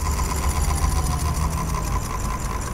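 A motorcycle engine idling steadily and close up, with a faint, rapid small rattle from dirt inside, holding an even level throughout with no talking.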